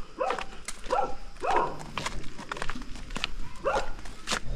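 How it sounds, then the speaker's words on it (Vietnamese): Many dogs bark around a village in a series of repeated, overlapping barks, some nearer and some farther off, with faint background noise between them. "Ở đây thì có vẻ như là có chó rất là nhiều ông nhỉ."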